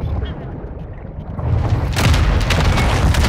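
A grenade in Call of Duty: Modern Warfare II detonates with a loud, close boom that breaks over a low rumbling background, followed by a sustained roaring, crackling aftermath.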